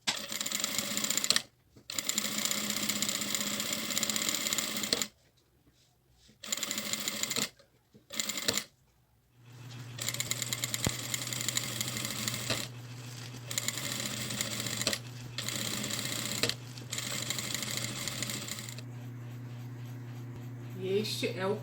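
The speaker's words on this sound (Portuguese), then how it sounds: "E a partir delas eu vou fazendo as demais costuras, me guiando pela haste do pé calcador." A sewing machine stitches seams on a satin and tulle pouch, starting in short bursts with pauses and then running in a long, steady, close whir.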